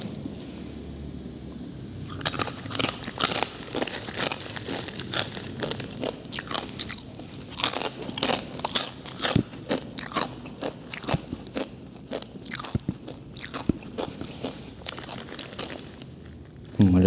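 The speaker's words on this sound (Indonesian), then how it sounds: "Kalau ada yang gak nyaman sama suara kunyah-kunyah, kalian skip aja" Food is bitten and crunched near the microphone in an old house at night, with repeated sharp crisp bites and chewing in an irregular rhythm, loud and close, with faint rustling behind.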